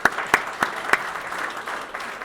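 At a family business awards event, a few sharp, separate claps ring out near the start, followed by softer, diffuse applause from the audience that stays fairly faint.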